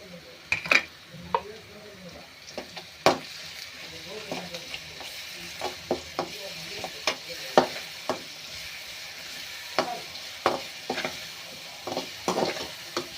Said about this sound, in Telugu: మిర్చి పేస్ట్ వేసాక ఇలా వేగనివ్వాలి